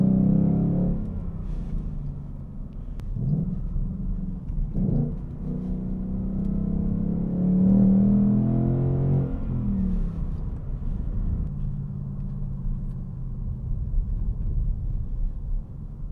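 A 2019 Mustang GT PP2 engine drones low and steady while climbing a hill in a lower gear on a stony road, heard from inside the cabin as a continuous rumble with mild swells in pitch and no talk.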